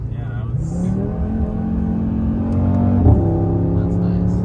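An Audi RS3 engine revs hard and climbs to a steady high pitch held at the limiter, loud and close, with a brief spike near the end.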